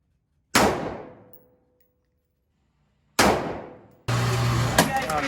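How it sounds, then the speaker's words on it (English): Gunshots crack out at a shooting range: two loud, sharp reports a few seconds apart, each with a decaying ring, then a sustained loud burst of noise. "go and shoot some guns"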